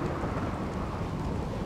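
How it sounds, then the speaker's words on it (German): A thunderstorm with heavy rain in the video game RimWorld: a dense, steady roar of rainfall over a low rumbling bed, constant and fairly loud throughout, with no voices. "Dass wir schon wieder ein regnerisches Gewitter haben, ist übrigens auch ein kleines bisschen lästig."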